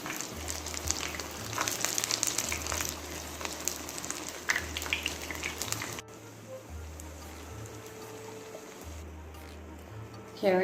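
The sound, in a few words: Grenadian saltfish and smoked herring fishcakes frying in pot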